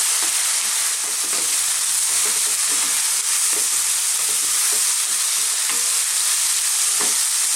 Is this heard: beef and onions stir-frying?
yes